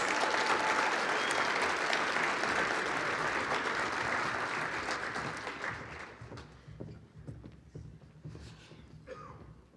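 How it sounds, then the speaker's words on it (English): At a girls and women in sports luncheon, a large audience applauds high school athletes, a loud sustained wash of clapping that gradually thins and fades toward the end. "Please give a round of applause to Highlands Ranch High School athletes."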